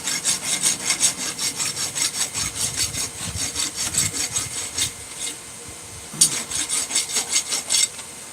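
A hot rasp is drawn in quick, rhythmic strokes over a forged tomahawk made from a wrench, a close, gritty scraping about twice a second. There is a short pause partway through before the strokes resume, and no talking.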